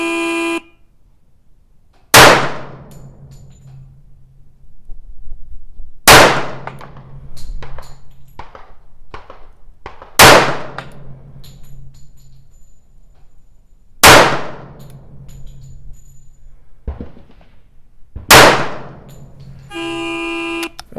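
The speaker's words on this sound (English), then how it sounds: "This is a string of timed fire." Timed-fire pistol shots at a paper target on a range, five loud, sharp reports spaced about four seconds apart, each followed by a ringing decay, with faint background noise between shots.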